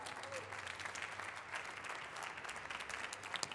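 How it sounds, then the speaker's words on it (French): Applause from an audience at an award ceremony for the maître d'hôtel trophy, a steady dense wash of many hands clapping, fairly distant and even throughout, with a faint voice underneath. "On peut l'applaudir"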